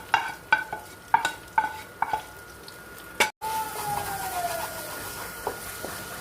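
Tomato thokku cooks in a pan while a spoon stirs and taps against it, a short series of sharp knocks followed by a soft, steady sizzle.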